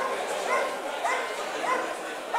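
A dog gives repeated yelping, whining barks during protection dog training, roughly every half second, close and steady, with a person's voice running beneath.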